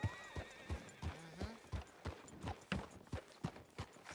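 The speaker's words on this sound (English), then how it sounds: "Let's park my horse here." A horse in a wild west video game clip-clops at a steady, even pace, each hoof strike crisp and regular, with a short whinny partway through, all at a modest level and with no voices.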